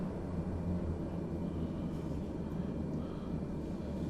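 A propeller aircraft engine pushed to full RPM in Microsoft Flight Simulator gives a steady, loud droning roar that holds unbroken throughout.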